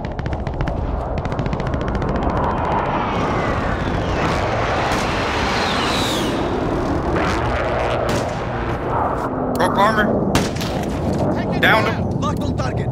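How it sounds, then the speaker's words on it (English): A cluster strike in Call of Duty: Modern Warfare, a dense barrage of rolling explosions and rattling gunfire amid battlefield noise, with voices shouting over the continuous loud din. "Cluster strike away."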